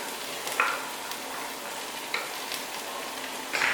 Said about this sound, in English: Let's try and get some of the carrots in the pan.